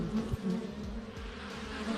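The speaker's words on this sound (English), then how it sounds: "A lot of bees coming out of that hive." Russian and Italian honey bees buzz at a busy hive, many wings droning in a close, steady hum as individual bees zip past the microphone, with no talking.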